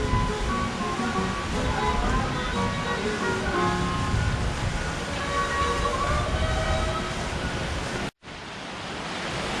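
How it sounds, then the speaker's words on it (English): A creek flows nearby in Parque Gallineral, San Gil, Colombia, producing a dense, steady rushing of water that holds constant before a brief cut, then resumes. "There's a creek right to my left"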